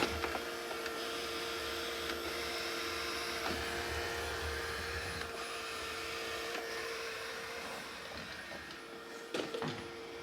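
A Narwal T10 robot mop and vacuum cleans a floor with its pressed-down spinning mop pads, giving a steady, moderate motor whir and hum with faint scuffs and a couple of soft knocks near the end.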